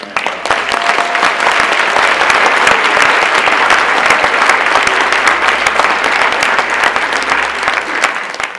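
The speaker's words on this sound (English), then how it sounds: "a round of applause for Graham Hancock" An audience bursts into loud, sustained applause for Graham Hancock at a talk, many hands clapping densely and evenly for over eight seconds before it tapers off near the end.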